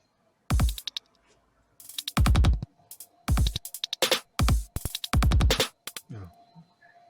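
A percussion beat sample for a music track plays as a bouncy pattern of sharp, punchy hits with a low thump, in short bursts separated by brief gaps, with a faint voice near the end.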